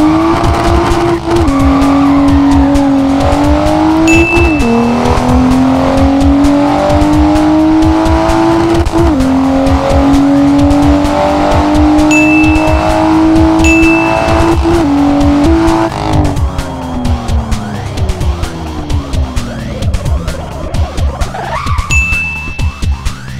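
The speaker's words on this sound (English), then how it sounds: "Moving on to BMW M2." A BMW M2 in the Assetto Corsa racing game, engine droning loud and steady as it climbs through the revs with brief dips at gear changes, and short tire squeals appearing near the end.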